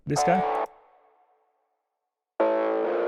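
A simple synthesizer oscillator run through a resonant comb filter gives buzzy tones with strongly resonant, metallic ringing peaks; one burst decays into a fading tail, then after a pause a second tone starts abruptly.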